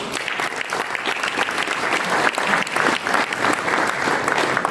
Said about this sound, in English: let you all applause this slide